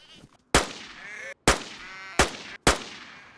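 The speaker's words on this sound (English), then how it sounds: "Right, I can hear sheep." Sheep bleating in the DayZ video game, several wavering bleats over a few seconds, interrupted by sharp, loud gunshot-like bursts.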